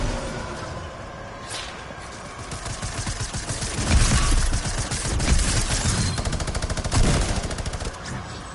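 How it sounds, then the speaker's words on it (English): A minigun in Fortnite fires in long rapid bursts of loud, dense gunfire that swells and fades with short pauses, close and dominant, with no talk over it. "Minigun!"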